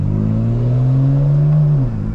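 A 2025 BMW M4 Competition with burbles off and exhaust valves open revs loud and close, holding a steady rising drone before the pitch drops off near the end.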